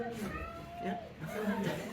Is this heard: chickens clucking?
no